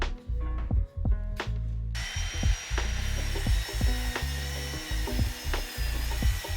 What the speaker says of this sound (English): I'm really impressed with how clean the cut is using the Bosch's Expert for Wood blade with 48 teeth